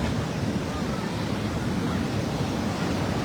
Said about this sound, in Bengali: জলের যা আওয়াজ